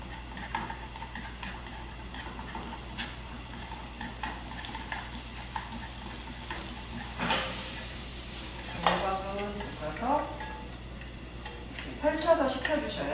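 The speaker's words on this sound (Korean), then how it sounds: "팬에 식용유를 살짝 두르고 깨끗한 재료 애호박 먼저 볶아주겠습니다" Zucchini being stir-fried in a lightly oiled pan, a steady soft sizzle with scraping stirring strokes and utensil clinks, while a voice talks over it.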